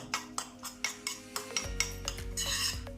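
A spoon stirs a thick mayonnaise and yogurt tarator sauce in a bowl, with a steady run of close, scraping clinks against the side, and no voices.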